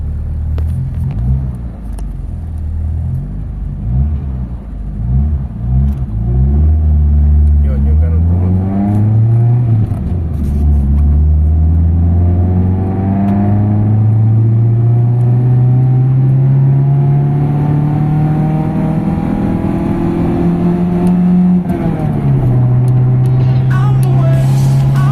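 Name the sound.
Mitsubishi Lancer car accelerating on a test drive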